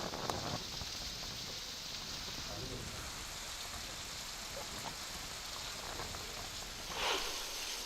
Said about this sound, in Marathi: इथं संततधार सुरू आहे पावसाची